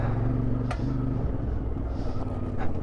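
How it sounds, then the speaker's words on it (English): A motorcycle engine rumbles steadily while riding over the dry gravel bed of a river in the Atlas Mountains, with a constant low drone, wind noise and an occasional sharp knock from the rough ground. "I've been riding on this riverbed for about half an hour now. It's all gravel."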